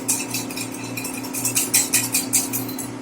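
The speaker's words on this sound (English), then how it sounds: "I'm just going to whisk that in here." A whisk works half a cup of whole wheat flour into a homemade yeast mixture in a bowl, giving rhythmic scraping and light clinking strokes under a steady low hum.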